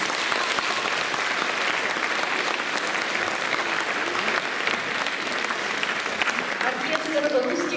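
An audience at a Russian folk instruments orchestra concert applauds in sustained, dense clapping, with a voice speaking over the ovation near the end.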